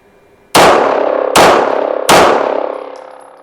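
Three loud, sharp gunshots from a heavy steel-frame handgun firing NATO ammunition, spaced under a second apart, each with a ringing decay and no talk.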